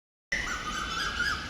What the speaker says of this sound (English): Hey, birds.